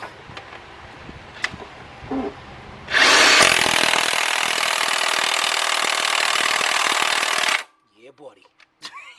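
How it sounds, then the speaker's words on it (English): A DeWalt power tool with a 19mm 1/2-inch drive socket tightens a bolt on a 2005 Cadillac CTS 3.6 engine, giving one loud, sustained whirring burst of about five seconds. Brief voices and light clanks come before and after it. "got my 19mm 1/2 inch drive. Got my DeWalt. Let's tighten this thing up."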